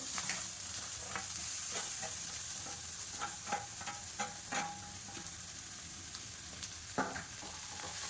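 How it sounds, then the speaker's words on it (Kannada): Greens are stirred into browned fried onions in a pan, a steady sizzle broken by repeated scraping and clinking strokes of a spoon, close and fairly loud with no talk. "ಸೊ ಇವಾಗ ನಾವು ಎತ್ತಿಟ್ಕೊಂಡಿರೋಂಥ ಸೊಪ್ಪನ್ನ ಇದಕ್ಕೆ ಮಿಕ್ಸ್ ಮಾಡಬೇಕು."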